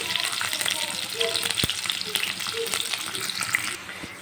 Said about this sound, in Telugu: కరివేపాకు అలాగే ముందుగా కట్ చేసి పెట్టుకున్న ఆనియన్స్ ఒక రెండు కట్ అంటే వేసేసుకోవాలి ఇవి కొద్దిగా ఫ్రై చేసుకోవాలండి